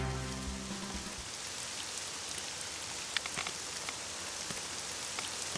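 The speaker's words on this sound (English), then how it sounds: "Not a good place to put any water parks since it rains all the fucking time here" Steady rain falling in a theme park video game, a dense even hiss of drops with scattered sharper patters, moderately quiet and continuous, no voices.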